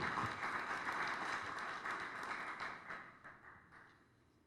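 Audience applause at a formal lecture on judges and evidence, a steady wash of clapping that fades toward the end, fairly quiet and without voices.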